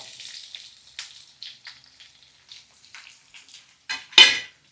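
Large-cut onions fry in oil for onion chutney, with sparse crackling pops and brief sizzle bursts separated by near silence, ending in one louder, sharper spatter.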